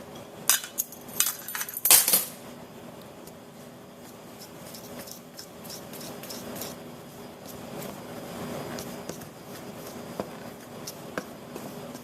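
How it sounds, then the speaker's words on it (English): A fork clinks and scrapes against a bowl while it presses through pie crust dough. A few sharp taps come early, then softer intermittent scraping follows. "Now what I'm doing is I'm pressing through the dough with the fork"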